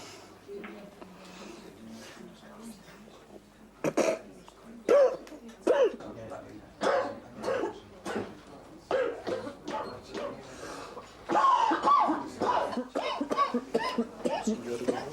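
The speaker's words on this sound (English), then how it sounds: "Altitude cough." Several harsh altitude coughs come in bursts between stretches of talk, close and fairly loud.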